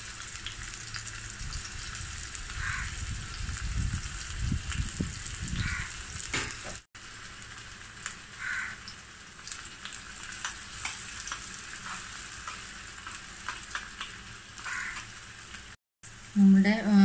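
Chopped onions fry in hot coconut oil with a continuous close sizzle, and a few clattering stirs come early on. A voice talks over the frying.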